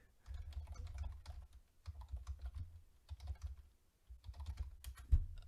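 Someone types at a home computer keyboard in several quick runs of soft, close keystrokes separated by short pauses, quiet and with no voices.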